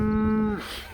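A mother cow guarding her calf on pasture gives a single loud, close moo with a steady low tone that breaks off at the end.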